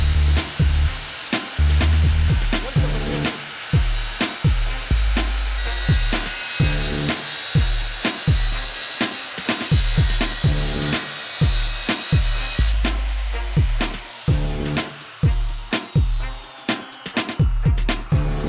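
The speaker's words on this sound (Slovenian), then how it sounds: "Vedno s krožno žago žagamo, da reže na vzdol." A circular saw rips lengthwise along a wooden board with a continuous loud whine, broken by a steady series of rough, rhythmic cutting bursts, close up for the whole stretch.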